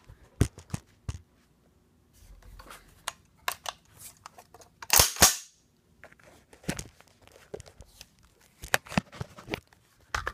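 An SKS rifle fitted with a Tapco stock is dry-fired and its trigger reset, giving scattered sharp metallic clicks close to the microphone, with one louder burst of handling noise in the middle and quiet gaps between.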